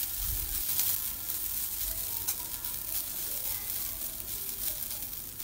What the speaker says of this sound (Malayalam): ഇത് ഡയറക്റ്റ് നമ്മൾ പാനിലേക്ക് ഇട്ടിട്ട് അങ്ങ് വറുത്തെടുക്കുകയാണ് ചെയ്യുന്നത്